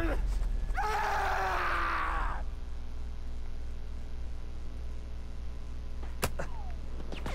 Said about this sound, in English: do you have to scream every time you charge?